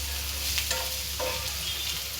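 Onion beresta sizzles in a pan with ground cumin, cinnamon, black pepper and clove, a soft steady frying hiss broken by a couple of brief stirring scrapes, close and fairly quiet with no talking.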